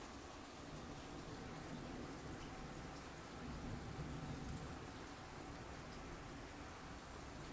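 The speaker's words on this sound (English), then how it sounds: "Boy, we just got a good rainstorm." Rain falls steadily during a rainstorm, a faint, even hiss of drops on surfaces with no letup across the whole stretch.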